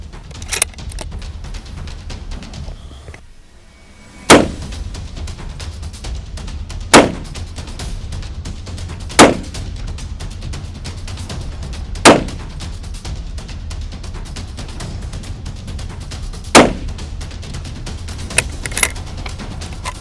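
A Tikka T3X UPR bolt-action rifle in 6.5 Creedmoor fires five sharp, loud shots outdoors, each separated by a pause of a few seconds, with steady wind and low rumble underneath.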